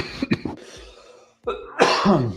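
A person coughs a few times in short harsh bursts close to the microphone, with a brief pause before a final heavier, raspier cough.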